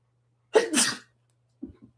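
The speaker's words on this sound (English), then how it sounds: "sneeze." A single close, sharp human sneeze with a quick inhaled lead-in, followed by a faint short breath or sniff, indoors with a desk fan humming softly in the background.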